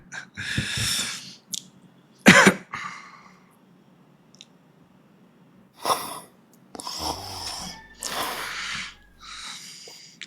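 A person snores on a TikTok live with a few loud, ragged snorting inhales separated by quieter breathing, close to the microphone.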